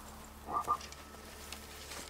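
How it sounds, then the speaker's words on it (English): A huge toad in the video game Blacktail croaking, two quick close croaks in a row against a quiet game ambience, with no talk. "That's one huge toad."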